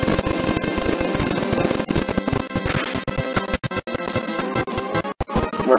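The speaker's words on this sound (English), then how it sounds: "Either way, I'm throwing a flame thrower." Rapid crackling bursts from a Flamethrower attack in the Pokemon Ruby video game, a dense, choppy stream of popping and fizzing effects, loud and continuous without speech.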